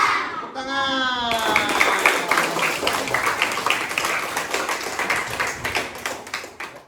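A classroom of students breaks into rapid, dense clapping right after a short spoken prompt. The applause stays loud and close, then gradually thins out toward the end.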